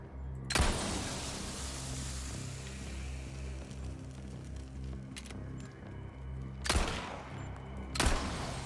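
Gunfire in the video game Resident Evil 4 Remake, with classic sound effects: three sharp, loud shots, one early and two close together near the end, over a steady low droning game soundtrack.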